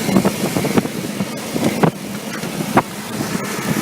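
A Chevy 4.3-liter V6 idles rich just after a cold start, a close, loud, steady rumble with uneven puffs and a few sharper knocks.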